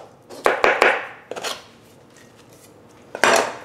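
Fresh mint is minced with a knife on a cutting board for tabouli, giving a few sharp, close chopping knocks in short bursts separated by pauses.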